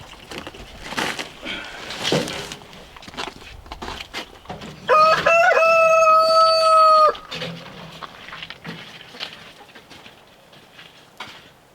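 Backyard chickens gathered under their coop, with soft clucks and scattered movement, then a loud, sustained rooster crow lasting a couple of seconds near the middle, followed by more low clucking and rustling close by.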